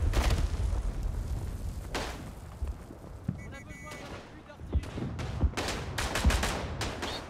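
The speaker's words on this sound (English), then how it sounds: "I miss my mortar shot." Mortar shot and rifle gunfire in the Verdun video game, a trench battle with scattered booms and sharp cracks at varied distances, some loud and close, others distant, with a voice heard at times.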